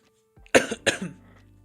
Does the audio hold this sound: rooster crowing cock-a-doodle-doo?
no